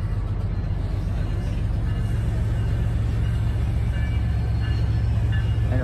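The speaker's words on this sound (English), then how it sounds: "As finally 5397 gets this heavy train moving again." A heavy freight train pulled by locomotive 5397 starts rolling again, giving a steady, loud low rumble and engine drone that holds level throughout with no voices.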